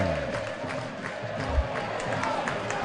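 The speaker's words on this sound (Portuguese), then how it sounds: "Olha o grito do povo!" A football stadium crowd at a Ponte Preta versus Sport Brazilian Serie B match shouts and chants in a dense, continuous roar, with a commentator's voice faintly mixed in.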